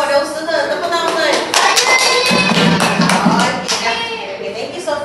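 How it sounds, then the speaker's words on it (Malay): Classroom children clap their hands for a classmate's group, a steady patter of many small hands under a teacher's talking and children's voices. "Tepuk tangan."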